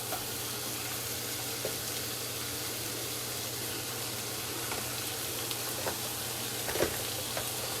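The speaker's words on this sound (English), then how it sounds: "Let's add in our pork chops now to the onion and garlic." Pork chops frying in a pan with onion and garlic for chuletas with sofrito, a constant close sizzle with occasional light clicks of utensils, no talk.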